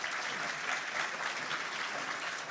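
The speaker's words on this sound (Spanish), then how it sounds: "Muchísimas gracias, aplausos." An audience at a formal presentation of a national glacier and glacial lake inventory breaks into steady, dense applause from many hands, sustained and fairly even throughout.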